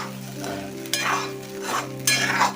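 Sabudana cooks in a pan and is stirred up from the bottom, giving three scraping strokes over a steady, close sizzle.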